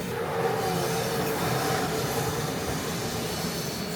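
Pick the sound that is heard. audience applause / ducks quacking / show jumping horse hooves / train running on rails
train running on rails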